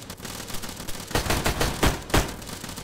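Pistol gunfire in ARMA 3, a quick run of sharp, loud shots that rings out close by, with several rapid cracks clustered together and then two separate heavier bangs.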